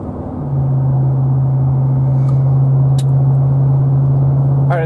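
A Ram 1500 Rebel truck with a Magnaflow Street Series exhaust cruises along, a steady deep exhaust drone and road rumble holding at an even, close level throughout.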